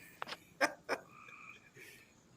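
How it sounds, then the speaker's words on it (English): Several short, bright croaks come in quick bursts, followed by a softer, drawn-out trilling call, fairly close with quiet background noise. "Can hear the frogs."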